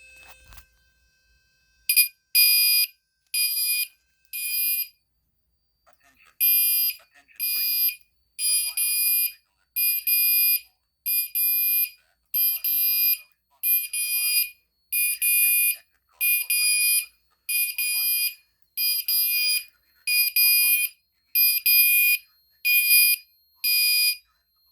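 A fire alarm speaker from a Wheelock or Gentex Commander system sounds during a fire alarm system test, blasting a loud, shrill, evenly pulsed tone in long repeating bursts with short gaps, close and alone.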